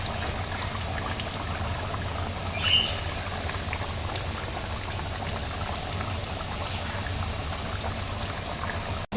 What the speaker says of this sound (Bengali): পানিটা ফুটে আসলে মাছ দিয়ে দেব